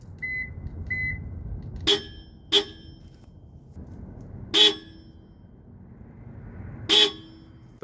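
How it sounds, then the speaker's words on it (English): Four short electronic chirps, two close together and then two spaced apart, ring out clearly over a low ambient hum; a faint tone sounds beforehand. "But I do lock my car all the time and you can still hear it."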